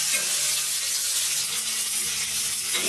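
Doddapatre (Indian borage) leaves with a green chilli roasting in a pan, a continuous soft sizzle and steamy hiss at even loudness, alone without talk.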